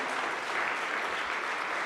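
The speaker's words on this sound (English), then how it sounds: "give a big round of applause to our home team" A church congregation gives a round of applause for the home team, a steady wash of clapping at moderate, slightly distant level.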